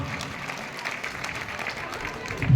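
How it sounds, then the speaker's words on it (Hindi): An audience applauds to welcome the Madhya Pradesh assembly speaker onto the stage at a Panch Kalyanak festival in Bhind, with steady, moderate clapping building louder at the end. "उनको मैं समझता हूं दोनों हाथ से ताली मिला के स्वागत करें"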